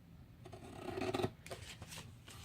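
Scissors snip and rasp through a cardboard box, several close, quiet cuts in quick succession with no talk over them.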